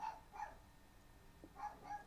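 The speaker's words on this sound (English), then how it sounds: "Damn dog." A dog in the film Chronicle (2012) barks four quiet, distant times in two pairs, with a gap between the pairs.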